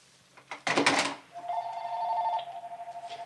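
A phone ringing close by, a steady electronic tone that pulses rapidly, following a brief burst of rustling noise as it is picked up, with no talk over it.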